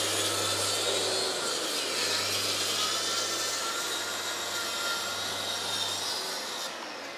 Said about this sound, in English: today is all about the track saw and getting these sheets all ripped down